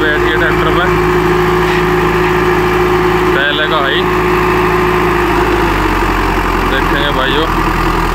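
An ACE DI 6565 tractor engine idles close by with a steady mid-low drone, and someone talks over it.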